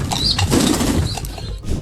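Pigeons flutter and flap their wings around a waterer, a loud close busy rustle of beating wings with soft bird sounds mixed in, continuing for about two seconds.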